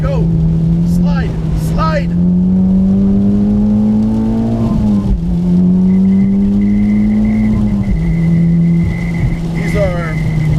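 A modified Mitsubishi Evo X rally car drives a wet, puddle-strewn track, its engine droning loudly and climbing through the revs, dropping between gear changes, with someone talking over the noise throughout.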